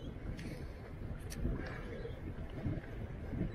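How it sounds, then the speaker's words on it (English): Steady headwind buffeting the microphone on a recovery bike ride near Mareeba, a continuous broadband rumble and whoosh that swells and eases, loud and close throughout. "Again, I got a bit of a headwind."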